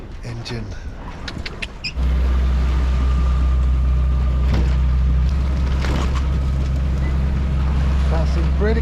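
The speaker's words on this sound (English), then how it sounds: "Engine." A sailboat's engine starts up and settles into a loud, steady low drone with a wind-like hiss, heard after a short stretch of quieter sailing noise, with talk over it.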